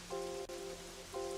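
Rain falling in the video game Pokémon Pokopia, a steady soft patter that runs the whole time beneath sustained game music tones.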